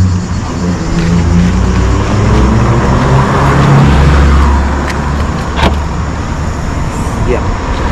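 A car rolls past on a road, its engine and tyre rumble swelling to a peak near the middle and fading away, loud and steady, with people talking over it.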